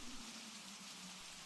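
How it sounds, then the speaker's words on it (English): Steady rain patters down in a soft, continuous wash of hiss, heard alone and fairly faint with no voices over it. "Just 20 minutes ago, I was cursing this rain"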